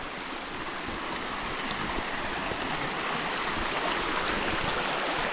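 Water rushes in a steady, soft, broadband wash, like a shallow stream flowing over stones, heard alone without voices.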